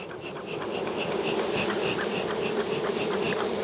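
Honeybees hum from an opened hive during a spring inspection, a dense, steady buzz close by with no voices.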